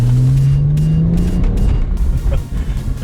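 A 2009 BMW 135i engine accelerates through city streets, a loud close drone with a rising pitch as it pulls through the gear, then rougher, more uneven engine noise toward the end.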